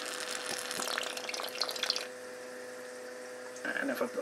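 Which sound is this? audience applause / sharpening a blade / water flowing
water flowing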